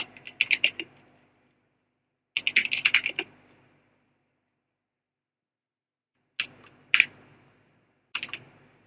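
Someone types a name into a form on a computer keyboard: quick clustered bursts of key clicks, then a pause and a few scattered taps, fairly close and with no talking.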